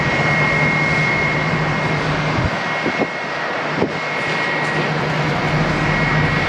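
A Delta passenger jet arriving at Atlanta airport from Savannah gives a steady, loud engine roar with a sustained high whine, broken by a few brief thuds, with no talking.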